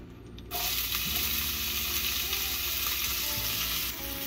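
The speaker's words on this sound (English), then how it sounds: "we're about to go down with some butter in our pot. And then we're going down with our onions" Onions hit melted butter in a pot and burst into a loud, continuous sizzle that starts abruptly and holds steady close up, easing off slightly at the end, with soft music underneath.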